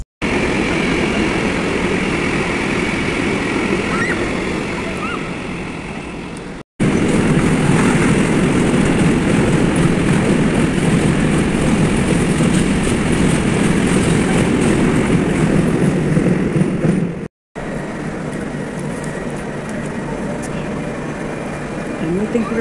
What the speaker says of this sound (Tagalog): It's my train.